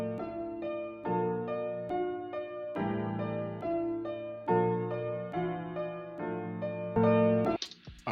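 A dry UK drill beat loop plays without effects: repeating melodic synth or piano chords over deep bass in a steady pattern, close and clear, with no voice.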